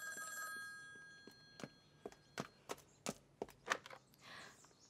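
A telephone rings indoors in a home during the Republic era, a few ringing tones at the start, followed by a series of sharp knocks or footsteps moving closer.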